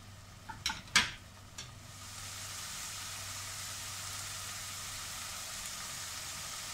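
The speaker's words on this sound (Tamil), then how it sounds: "இது நல்ல இந்த எண்ணெயில் இந்த புதினா வந்து கொஞ்சம் பச்சை ஸ்மெல் போகிற வரைக்கும்" Mint leaves sauté in oil for mint pulao, opening with a few sharp clacks of a utensil against the pan, then settling into a faint, even hiss of frying that continues alone.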